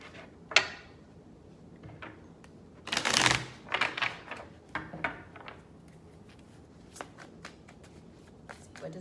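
Tarot cards riffled and flipped at close range, with one loud burst of shuffling in the middle and scattered light card snaps and taps either side, against quiet room tone.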